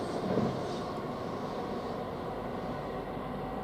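A Class 322 electric train, unit 322418, at Chelmsford station, giving a steady low rumble with a faint whine, constant and moderately near, with no speech.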